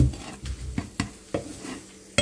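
Eggs stirred in a pan by a ten-year-old cook, with several separate scraping clacks of the utensil against the pan over a soft sizzle, close and fairly quiet.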